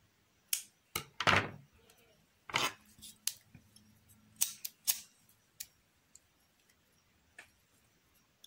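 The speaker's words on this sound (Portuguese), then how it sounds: "agora eu vou puxar aqui para trás para fazer o arremate desse fio aqui atrás. Que eu vou cortar e vou queimar." Scissors snip crochet yarn for finishing off a crocheted owl, a few sharp close clicks and snaps spaced irregularly, followed by lighter taps in an otherwise quiet room.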